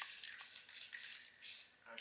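Short hissing bursts of black spray paint coating goose decoy heads, about four pulses of aerosol spray with brief pauses between, close and fairly soft.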